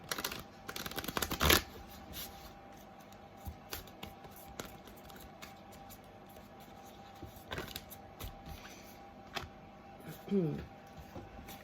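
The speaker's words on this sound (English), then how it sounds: "Let me just shuffle because I just think they're stuck together at this point." Tarot cards riffle and flick repeatedly in uneven bursts, close by, with soft papery rustling between them and a quiet voice now and then.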